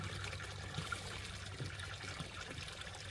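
Strong spring water gushing steadily from a natural spring while water is being fetched for drinking, a continuous close trickling rush with no talk.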